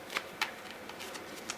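A deck of oracle cards is shuffled by hand at close range, giving a few quiet papery riffles and flicks with short gaps between them and no speech.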